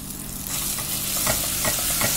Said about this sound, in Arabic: جبت طاسة وحطيت لها زيت واديت لها توم